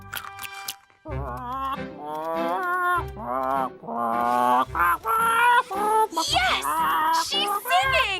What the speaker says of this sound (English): She's singing! We helped the Mechana Parrot sing again.